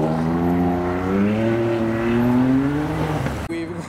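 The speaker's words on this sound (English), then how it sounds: "Well, I've stood back for this, it is a Mustang." A classic Ford Mustang custom car with mud on its tyres pulls away from a show, its engine note rising steadily in pitch as it accelerates, loud and close, before dropping off abruptly near the end.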